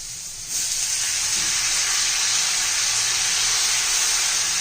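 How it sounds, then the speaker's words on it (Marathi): Spinach dropped into a hot pan of sautéed spices for a carrot and spinach vegetable dish, giving a loud, steady hiss and sizzle that swells after a brief quieter start and holds without any talking. "चांगले मसाले पण परतून घेऊया आपण बरोबर आता त्यात आपण पालक घालून घेऊया"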